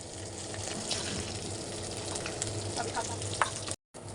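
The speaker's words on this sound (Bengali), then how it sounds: "শুটকিটা এই যে ভাজা ভাজা করছে তেলে" Dried fish frying in oil in a home kitchen, a steady dense sizzle and crackle held close and fairly loud, with faint light stirring clicks, then a brief cut to silence near the end.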